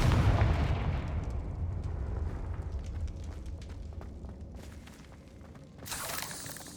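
Confringo blasting spells from Hogwarts Legacy burst in a heavy boom that fades into rumbling debris and crackle, followed by a second sharper blast near the end.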